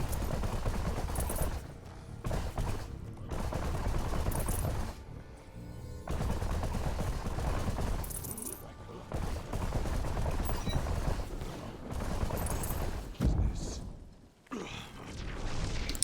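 Sustained bursts of gunfire from a video game gun whose kills raise its fire rate and add homing projectiles, in long loud stretches broken by short pauses near 2, 5 and 14 seconds.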